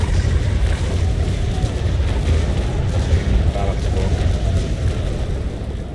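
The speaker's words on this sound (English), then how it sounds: "just firing broadside in sequence" Ship cannons fire a broadside in a video game, a dense, continuous rumble of booming shots rolling together at steady loudness for several seconds.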